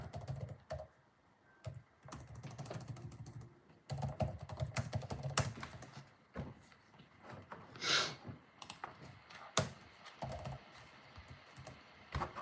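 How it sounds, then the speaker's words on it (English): Someone types on a computer keyboard: uneven bursts of close clicking keys with pauses, several louder single taps, and a short rattle in the middle, with no talk. "What was I going to type then?"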